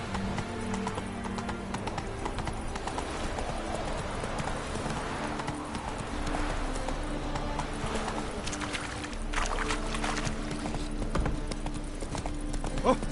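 Roach the horse trotting in Witcher 3, a steady run of clip-clop hoofbeats on ground that carries on throughout, with faint background game sounds.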